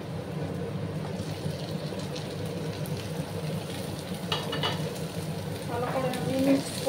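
Eggplant pieces fry in a pan with rohu fish bones, a low steady sizzle with stirring clatter and a few brief sharper crackles, moderately close.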